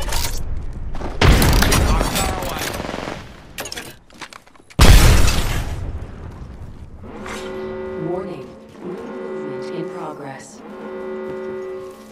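A frag grenade blast in a battle-royale video game, with two loud broadband bursts around two and five seconds, each decaying into noise, followed by sustained tonal game sounds.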